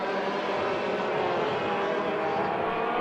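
Junior go-kart engines at a 1987 international juniors race, a steady dense buzzing drone that holds continuously at moderate loudness with no talk over it.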